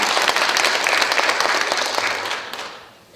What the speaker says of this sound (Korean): 박수도 치시면 좋겠어요.